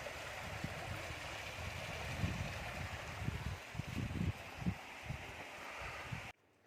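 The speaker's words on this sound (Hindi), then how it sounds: "मस्त, यहाँ झरना भी।" A waterfall beside a mountain hotel near Tungnath in Uttarakhand gives a steady, soft rushing hiss, heard from some distance, with low gusty rumbles mixed in before it cuts off abruptly.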